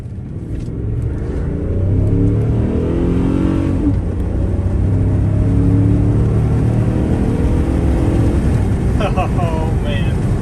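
A 2014 GMC Sierra with an injector fault revs its engine while driving, a loud, steady, rumbling drone that climbs in pitch through the clip. Voices are faintly present beneath it near the end.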